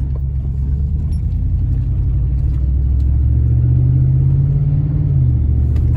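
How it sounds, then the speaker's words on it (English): Steady, deep engine and exhaust rumble heard from inside a moving Ford Expedition with a cold air intake, continuous throughout and swelling slightly toward the end. "As you can see from inside the truck, the exhaust sounds nice."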